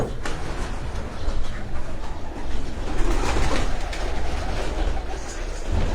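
Pigeons coo in a breeding loft, their soft calls repeating through a steady, noisy background rumble.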